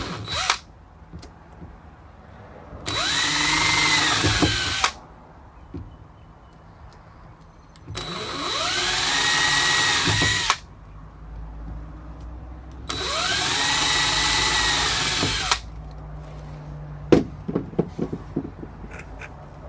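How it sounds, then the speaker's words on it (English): A power drill pre-drilling screw holes for No. 4 screws whirs in three separate bursts of a few seconds each, pitch rising as it spins up and dropping as it stops, close by. "And then pre-drilling for the number 4 screws provided by BeauClips."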